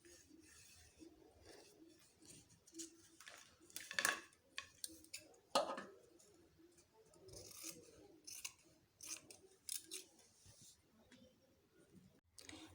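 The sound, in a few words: scissors cutting out fabric for a kimono robe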